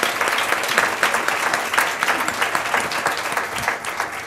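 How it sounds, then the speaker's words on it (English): Sustained applause from an audience for a business panel on women entrepreneurs, a dense, even wash of clapping that stays steady and fairly loud throughout. "Let's stop and give them a round of applause."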